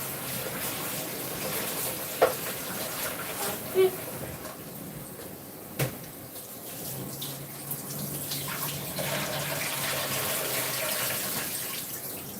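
Tap water runs steadily into a kitchen sink as vegetables are rinsed for a pork stir-fry, a soft continuous splashing hiss with a few brief clunks, heard fairly close.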